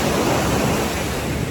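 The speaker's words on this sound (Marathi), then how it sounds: "उसळणाऱ्या लाटा बघा." Surging ocean waves on a beach, a loud, broadband roar of surf with rushing wind noise on the microphone, continuous and close, no voices.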